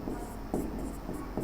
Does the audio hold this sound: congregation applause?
no